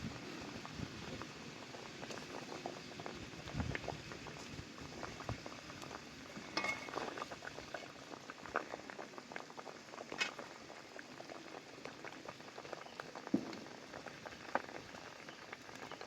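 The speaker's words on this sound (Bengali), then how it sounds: "ঝোল আমার ভালোভাবে ফুটে গেছে।" Mustard gravy for sorshe ilish at a rolling boil with pieces of fried hilsa fish set in it, a steady dense bubbling and popping that carries on throughout with no talk.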